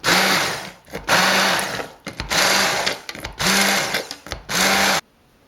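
A kitchen blender purees gravy for a peas-and-paneer dish in five loud, steady whirring bursts of about a second each, with short pauses between them, then stops.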